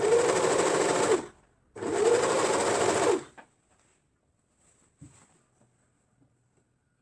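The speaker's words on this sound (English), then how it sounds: "I'm just overlocking the both elastic and the fabric together." An overlocker stitches elastic and fabric together for short pants: two loud, close bursts of rapid mechanical whirring separated by a brief pause, followed by near silence with faint handling clicks.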